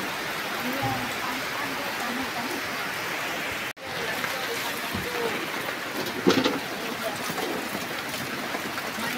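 Steady rain falls as a continuous, even hiss that stays at one level throughout, broken only by one brief dip and a few small spikes of louder drops.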